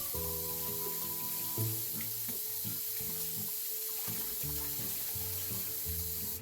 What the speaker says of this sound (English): let's wash the eggplant and the green onions